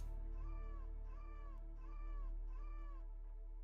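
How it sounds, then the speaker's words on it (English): A cat meow sound effect from the Stalker GAMMA mod plays repeatedly, four drawn-out rising-and-falling meows in a steady rhythm over a constant low hum, close and clear. "Yeah, that's a cat."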